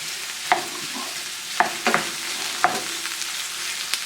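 Tofu hitting a hot oiled pan and being stirred into a single layer, giving soft scraping clatter and a few sharp knocks over a low steady sizzle, close up with no talking.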